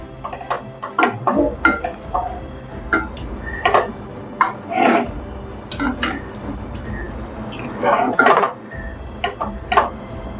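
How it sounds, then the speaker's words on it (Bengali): Chicken korma being stirred in a pot, with intermittent clinks and scrapes of a spoon against metal at irregular intervals, fairly close, over a low background hum. "দিয়ে ভালো করে এটা নাড়িয়ে নেব।"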